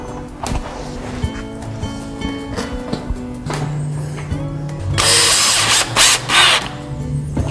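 A power drill drives 5/8 inch screws into the corner of a Murphy wallbed, whirring in several short bursts nearby and then one longer, louder run of driving near the end, with no voices.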